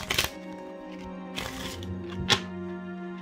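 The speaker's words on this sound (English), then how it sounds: "And I oftentimes shuffle just like that." Someone overhand shuffles a deck of playing cards in a few quick, crisp riffling bursts over a soft, sustained musical backdrop.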